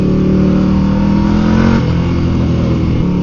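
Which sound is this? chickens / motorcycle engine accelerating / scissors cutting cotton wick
motorcycle engine accelerating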